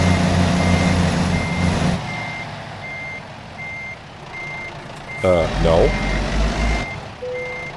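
A truck backs up in American Truck Simulator, its reversing alarm beeping in a steady, evenly spaced rhythm over low engine rumble, with a short spoken word from a man partway through.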